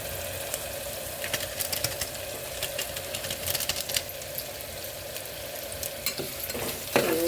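Bhaji masala stirred and frying in a pan makes a soft continuous sizzle broken by quick scraping and clicking strokes of the spoon, growing busier near the end; nobody speaks.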